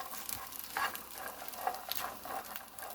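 Soybeans stir-frying in oil in a pan, a soft, quiet sizzle with light scattered crackles and pops, no voices over it.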